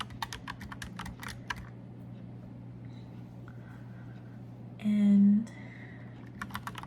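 Mechanical keyboard keys clicking in quick, typewriter-like bursts, close and crisp, pausing in the middle while a brief low tone and some faint rustling pass through the quiet before the clicking resumes.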